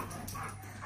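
A dog whimpers softly in a single brief, faint whine against a low background hum.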